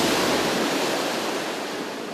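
Sea surf on the Do Son coast in Hai Phong, a steady broadband wash of waves rolling in and out, loud and continuous with a slight fade.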